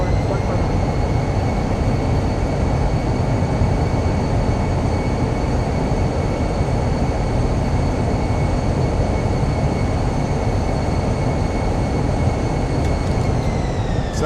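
A loud, steady broadband roar from an Airbus A320's thrust reversers during the landing roll in Microsoft Flight Simulator, with a constant high whine layered over it. A voice talks faintly underneath.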